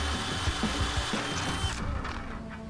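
A power drill bores a hole through a metal gate brace where it meets the bottom rail, a steady whirring with short grinding bursts, close by before it stops near the end.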